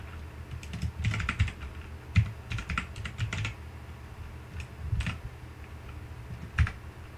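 Someone types on a computer keyboard in uneven bursts of clicky keystrokes with short pauses between, close and fairly loud.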